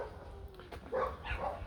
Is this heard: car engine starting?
no